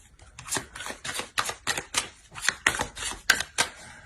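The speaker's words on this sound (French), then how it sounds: "On va rajouter des cartes." Tarot cards are laid down one after another in a quick, irregular series of about a dozen crisp snaps and slaps, close up with no voice.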